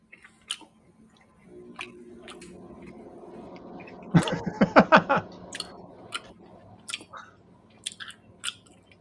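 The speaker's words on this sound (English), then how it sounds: "Okay, that's a lot of chewing for that little thing." A person chews a small oyster-like piece of food, with wet, squishy bites building into a cluster of louder chomps midway, close to the mic amid faint background clatter.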